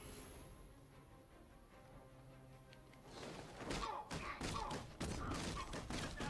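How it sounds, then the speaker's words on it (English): Gunfire in an area with heavy police presence after a shootout: a rapid, irregular burst of loud cracking shots and thuds rising over a muffled, noisy background and continuing to the end. "And was that gunfire?"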